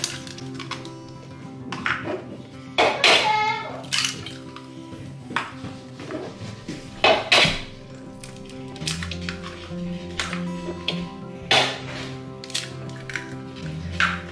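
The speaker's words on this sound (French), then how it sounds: "la première étape c'est de casser les 4 œufs" Four eggs are cracked into a bowl in a home kitchen, making sharp taps and clinks against the rim among scattered clatter of dishes and utensils.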